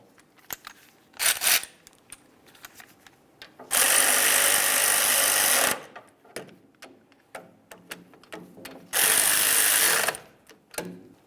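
Caliper slider bolts on a 2002-2005 Ford Explorer are run in with a power tool, two loud steady whirring bursts of about two seconds each, separated by scattered clicks and clinks of handling, close up and without speech.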